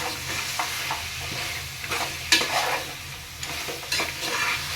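Mutton stirred and fried in a pan, with a steady sizzle under intermittent scraping strokes of a spoon and a few sharper clatters, close and moderately loud, without speech.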